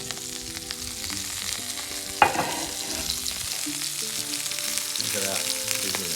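Food deep frying in hot oil at a wood-fired oven gives a steady crackling sizzle, with a sharp metallic clank partway through and faint tonal background sound, no talking.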